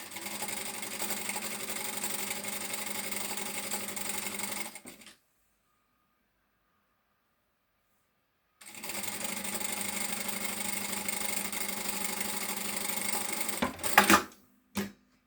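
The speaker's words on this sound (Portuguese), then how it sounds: "Vamos passar uma costura por cima desse risco, 1 cm de cima para baixo" A sewing machine runs a continuous stitch along a seam on a shoulder-bag lining, stops for a few seconds of silence, then stitches again before a few clunks at the end.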